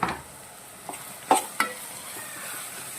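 Chicken masala with tomato, turmeric and asafoetida being stirred in a hot pan, a soft continuous sizzle broken by a few sharp scraping clicks of the spoon against the metal, close and fairly quiet.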